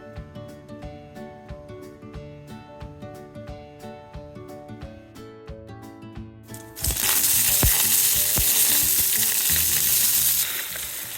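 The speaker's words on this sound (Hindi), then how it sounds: "इसे जस्ट फ्राई किया जाता है तड़का देकर।" A simple Indian vegetable sabzi fries with tadka in a pan: light stirring and clinks at first, then a loud, steady sizzle bursts in as ingredients hit the hot oil, close up with no talk.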